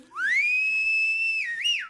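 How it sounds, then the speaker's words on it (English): A person whistles one long note that rises sharply, holds steady and loud for over a second, then ends with a quick upward flick, heard alone and close. "I want you to try that same whistle you just did."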